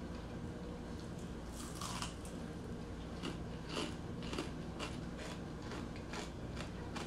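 Crunchy crackling cornbread made with pork skins being bitten and chewed up close, a series of quiet, irregular crisp crunches over low background hiss.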